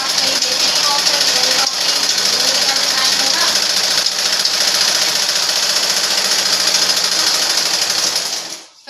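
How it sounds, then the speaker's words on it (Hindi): An electric sewing machine stitching a women's suit runs in a fast, continuous loud mechanical whir close by, with a brief pause near the start before it winds down at the end, with talking over it. "पहले सिलाई कर लें, एक आध सूट सिल लें"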